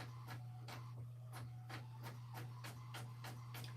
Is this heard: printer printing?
yes